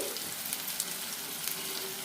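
Tomato paste hisses and sizzles steadily in a hot pan of restaurant-style chicken curry, a dense even frying crackle close by with small pops, no voices.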